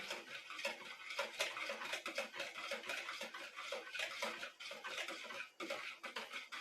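Dough ingredients being mixed by hand in a warm bowl while making bread, giving a steady run of scraping, clinking and sticky stirring sounds that stay close and fairly busy throughout, with no talking.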